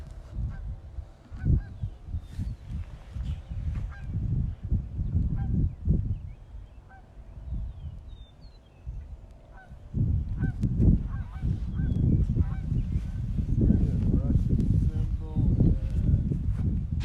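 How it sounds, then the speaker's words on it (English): Geese honk repeatedly as a flock passes over a horse farm. The calls are scattered and moderately near, over wind and outdoor rumble, with louder honking in the second half. "see the geese coming through."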